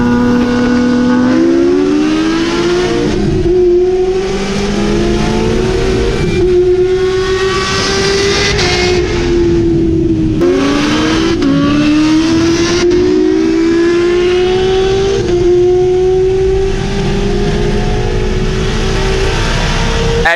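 A ProCharged 441 LSX C6 Corvette Z06 races a modified Kawasaki H2, loud engines screaming and climbing through several gear changes with supercharger whine, heard close and unbroken with no talking.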